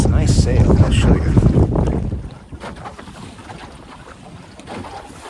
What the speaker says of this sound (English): The wind is coming, straight up the lake.